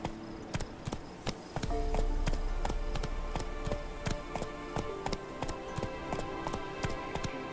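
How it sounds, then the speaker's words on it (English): Hooves of a horse galloping at speed in The Witcher III video game, a steady rapid clip-clop of repeated beats carrying through the whole stretch over a faint background. "you can like gallop or you can like run, have the horse run fast, roach, or you can just walk."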